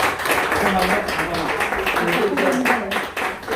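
A congregation claps at a Presbyterian pastor ordination ceremony in a Seoul church, a thick continuous wash of applause with voices talking faintly underneath, steady throughout and ending in a brief dip.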